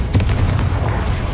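A Confringo blasting spell explodes in the Hogwarts Legacy video game, a loud, booming burst with a heavy low rumble that sustains throughout, like artillery fire.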